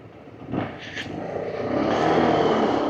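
A passing car moves off, its engine rising from a quiet start into a steady, broadband road rumble that grows louder and fuller toward the end, with no one talking.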